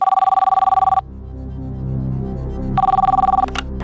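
A telephone rings twice while a call is placed, each ring a short electronic trill separated by about two seconds of quiet background.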